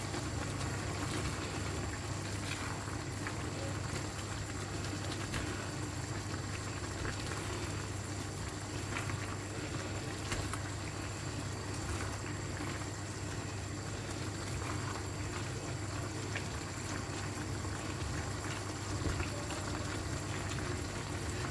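Creamy chicken and mushroom sauce with paprika simmering over high heat in a pan, a steady dense bubbling and sizzling hiss that runs unbroken throughout, close and even, with no talking.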